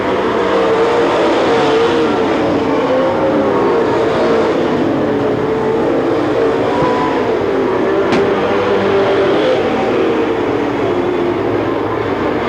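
Race cars roaring around a weekly racing series oval track in Watsonville, California, a loud continuous engine drone with shifting pitch as the pack passes, steady throughout with a brief sharp click midway.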